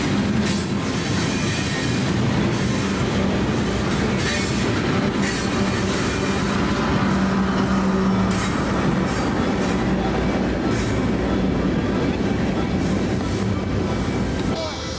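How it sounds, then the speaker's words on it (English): A Union Pacific grain freight train with a distributed power locomotive rolls past nearby, its loud continuous rumble carrying wheel squeal and clickety-clack throughout. "the UP Grainer continued on its way south with an interesting DPU placement"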